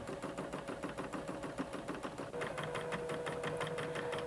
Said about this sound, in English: Rethread the machine and continue stitching.